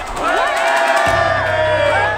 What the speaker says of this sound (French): Allez-y, on peut quand même les applaudir.